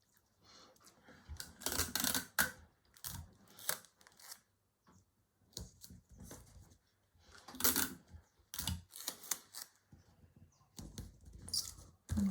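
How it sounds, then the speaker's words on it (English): Sticky tape is pulled and pressed onto paper sewing pattern pieces for doll clothes, giving irregular close crackles, rips and rustles with short quiet gaps between them. "I'm just going to line these up and sticky tape them together."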